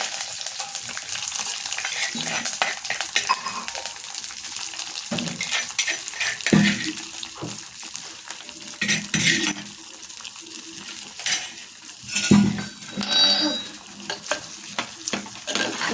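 Spoon stirring boiled chayote (chow chow) kootu in a pan on the stove, with soft scraping and wet sloshing in irregular bursts and brief sizzles, close and moderately loud, no talking.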